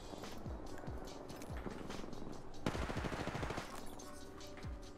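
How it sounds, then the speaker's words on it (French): Gunfire in the battle royale game Apex Legends: repeated sharp shots and short bursts crackle through a busy mix of game sound, with a denser volley in the middle and scattered single reports around it. "De là où on vient, ça tire."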